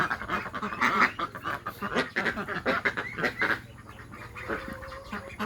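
Several Yi Liang ducks quacking close by in overlapping, busy bursts, loud at first and thinning toward the end.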